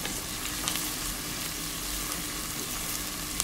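Onion and garlic frying in olive oil in a pot, a steady close broadband sizzle with faint crackles and no talk throughout.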